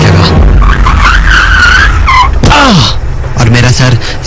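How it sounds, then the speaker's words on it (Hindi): A car brakes hard with screeching, skidding tires, a loud sliding squeal with a rising and falling wail, heard close and continuous over a steady engine rumble. "तभी गाड़ी में जोर का ब्रेक लगा"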